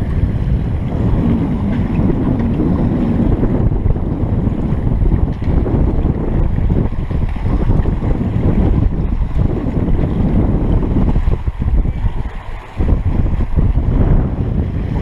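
A sailboat under sail with the jib let out off the Dutch coast: loud, constant wind buffeting the microphone blends with the rush of water along the hull, steady for the whole stretch and without voices.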